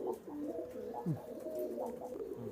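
Kasuri pigeons coo in soft, throaty rolls, several overlapping calls repeating steadily at close range with no talk over them.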